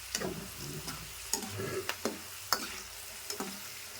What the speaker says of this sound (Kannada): ಈ ರೀತಿ ಫ್ರೈ ಮಾಡ್ಕೊಳ್ತೀನಿ ನಾನು